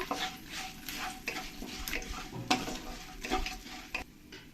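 Salt and turmeric being stirred into lemon rice ingredients in a pan, a soft sizzle under uneven scraping and clinking of a spoon against metal, quiet and close, with no voices.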